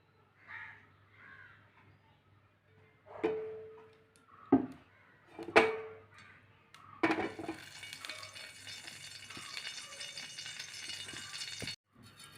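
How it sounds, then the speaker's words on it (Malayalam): Mustard seeds splutter and crackle as they fry in hot coconut oil, a dense, steady sizzle that starts partway through after a few separate knocks and sharp sounds. "ഈ കടുകൂടെ നമുക്കൊന്ന് പൊട്ടിച്ചേർക്കാം കടുകൂടെ അങ്ങോട്ട് വറുത്ത് ഇടാം വെളിച്ചെണ്ണ അങ്ങോട്ട് ഒഴിക്കാം"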